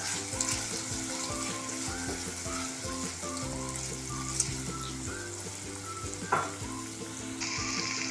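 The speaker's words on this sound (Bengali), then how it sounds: "একটু নেড়ে দিচ্ছি।" Vegetables with turmeric stirred in a frying pan while cooking noodles, a steady close sizzle with occasional scrapes of the spoon and a couple of sharp clinks.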